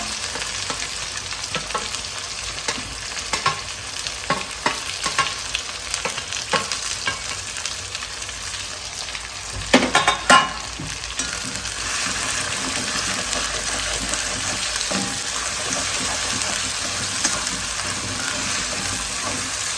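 Chopped onions sautéing in oil in a pan on the stove, a steady close sizzle with stirring scrapes and a brief louder clatter midway, no talk.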